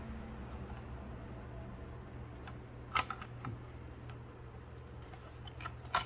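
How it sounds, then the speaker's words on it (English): A Matchbox car blister card is worked open by one hand, giving soft crinkling and scattered plastic clicks. Two sharper snaps come partway through and at the end, all faint and close in a quiet room. "Just give me a second while I open that up."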